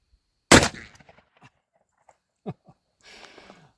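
A single loud, sharp blast from a Smith & Wesson Model 29 revolver firing a heavy load, followed by faint handling clicks and light movement, with no talking.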